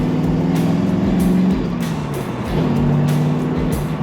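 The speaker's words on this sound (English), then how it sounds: "Great exhaust sound of this car." A 1934 Ford Deluxe 3-Window Coupe street rod's exhaust rumbles close by, a deep throaty idle that swells with revs, dips briefly, then rises again; no talking.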